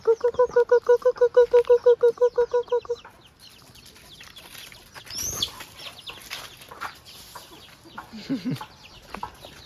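Chickens in a rural village yard cluck in a fast, steady run of calls that are loud and close for about three seconds. Quieter rustling, footsteps and faint background sounds follow.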